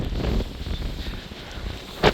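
Strong wind buffets the microphone on a hilltop, a close, uneven low rumble in gusts that peaks sharply near the end, with no talking.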